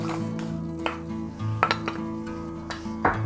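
Roasted dried chillies are tipped into a mixer jar, giving a few scattered clinks and knocks of metal and utensils against a quiet kitchen background.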